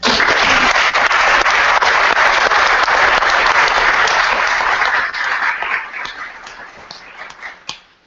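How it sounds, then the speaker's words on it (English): Loud, dense applause from a crowd at a school concussion education event fills the first several seconds, then thins out into scattered claps as it fades. "I want to give a round of applause for them."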